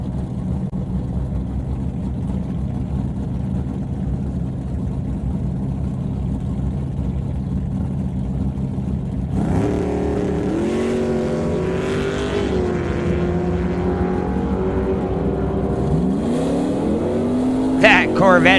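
A Corvette race car accelerates hard at a drag race, a loud rising engine roar that swells after a steady low rumble, with an announcer talking over it throughout.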